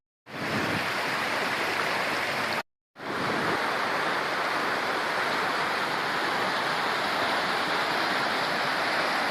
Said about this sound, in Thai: นี่คือน้ำตกภูละอ